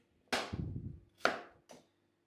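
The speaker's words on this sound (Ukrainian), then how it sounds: "Ось такими шматочками потрібно нарізати картоплю." A knife cuts through potatoes in three sharp, separate chops on a board, close and crisp with pauses between them.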